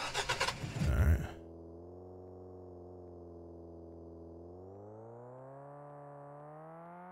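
A low, steady car engine drone in the video game Drive Me to Hell, holding an even pitch that slowly rises after a few seconds, preceded by a short burst of louder clattering sounds.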